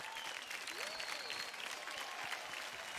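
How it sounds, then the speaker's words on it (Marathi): An audience at a dance competition applauds a contestant, a steady, moderately loud wash of clapping with a couple of brief whistles above it. "जोरदार टाळ्या होऊन जाऊन देत"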